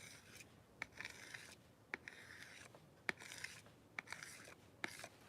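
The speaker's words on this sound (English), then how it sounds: "I'm just going to scrape all of that back into my jar." Quiet, repeated scraping as a craft medium is scraped off a surface and back into a jar. Around half a dozen short, sharp strokes come at a fairly even rhythm, close and faint.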